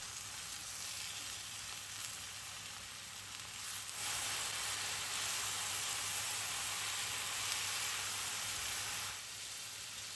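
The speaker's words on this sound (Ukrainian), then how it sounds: "Декілька хвилин підсмажуємо наші гриби та знову усе перемішуємо." Chopped mushrooms sizzle in a pan with onions for Transcarpathian mushroom gravy, the hiss growing louder partway through as if stirred, then settling back down; no one speaks.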